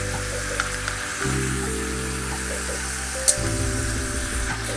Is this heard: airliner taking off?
no